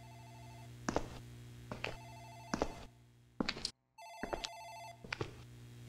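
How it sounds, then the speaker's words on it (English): An office telephone in the horror game Dark Fracture rings in repeated electronic trills, about once a second with short gaps, clear and fairly close over a low steady hum. "think that's the phone in the office ringing."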